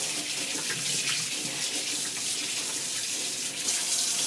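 Tap running steadily into a sink while hands are washed, a continuous loud rush of water that stays even throughout, close by with no talking.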